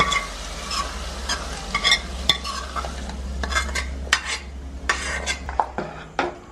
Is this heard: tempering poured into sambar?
yes